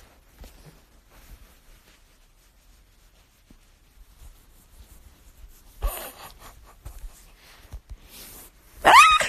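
A big, strong dog is mostly quiet, then gives a few short, close vocal bursts near the end, with the loudest one at the very end.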